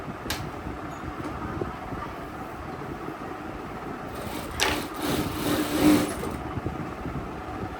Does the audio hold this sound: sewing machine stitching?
yes